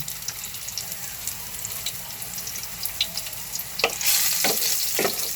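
Garlic sizzles in a frying pan with a crackling hiss that grows louder and sharper toward the end, punctuated by brief stirring scrapes, with no talking.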